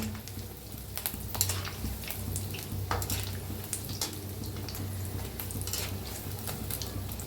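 Gram-flour bhaji fritters for kadhi fry in hot oil, a loud, steady crackling sizzle with dense popping throughout, no voices over it.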